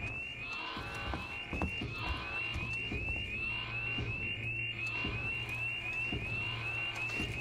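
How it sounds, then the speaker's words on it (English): An alarm blares inside the space station of the video game Alien: Isolation, a steady high electronic tone pulsing in repeated cycles over a low droning hum, loud and continuous throughout. "What's up with these fucking alarms anyway?"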